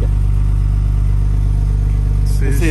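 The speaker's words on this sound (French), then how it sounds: "une voiture qui est décatalysée avec un son de dingue" A decatted car engine with no catalytic converter idles loudly and close by, with a deep, throaty, steady exhaust rumble and a slight rise near the end.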